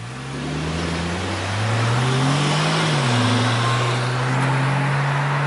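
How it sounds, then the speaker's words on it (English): BMW 335i E92 coupe with a JB4 tune pulling hard at full throttle from a stop, a loud steady engine drone rising in pitch and holding strong, close-up from inside the car. "I'm gonna turn the camera back on and floor it."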